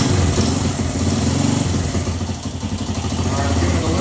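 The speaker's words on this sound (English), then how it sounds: "We're gonna kick the choke on, give it a kick, and then we'll adjust our idle and our air screw and see what this thing does." A 1975 Honda XL125 motorcycle engine runs on choke after a kick start, idling loud and close with a steady, rapid chugging throb throughout.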